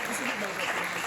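Church congregation applauding and cheering for a pastor, a steady dense wash of clapping that fills the whole short moment at moderate, even loudness.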